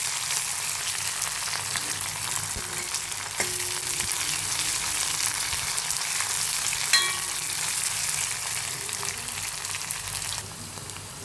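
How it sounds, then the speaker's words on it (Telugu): Garlic frying in a pan for ridge gourd dal gives a steady, close sizzle and crackle that runs unbroken, with an occasional light clink of a stirring utensil. "వెల్లుల్లిపాయ వేసుకొని వెల్లుల్లిపాయ మగ్గేంత వరకు తీసుకొని కొంచెం ఎర్రగా పెట్టుకోవాలి"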